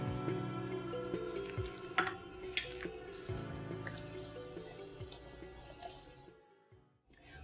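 Vegetable broth seasoned with curry powder simmers in a pot, giving soft, irregular bubbling pops and drips that are quiet and close, with no talking.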